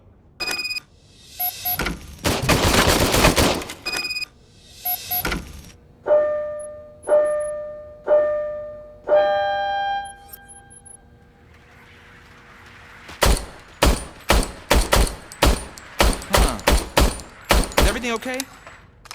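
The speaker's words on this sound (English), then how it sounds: "I was issued this old gun and serviced it according to the manual. I will try it out." An old service pistol fired in the video game Robocop: Rogue City. Tonal clicks and mechanical handling come first, then a rapid string of sharp, loud shots near the end, with talking in places.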